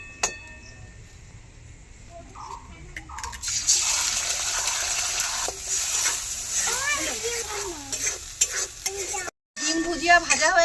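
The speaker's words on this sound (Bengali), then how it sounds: "এবার কড়াইতে 1 চামচ তেল দিয়ে একটা ডিম ভেজে নেব।" An egg fries in a spoonful of oil in a wok, crackling and spattering under a stirring spatula, while a person talks over the sizzle and it briefly cuts out near the end.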